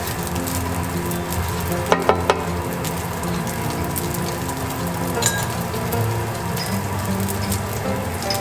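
Chinese sausage fries in a pan for fried rice, its fat rendering with a constant close sizzle and spatter, a couple of sharp utensil clicks near the start and no talking.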